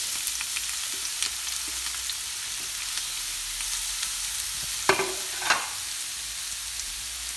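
White cabbage and carrots fry in a hot pan, a steady close sizzle with soft stirring and a couple of brief scrapes.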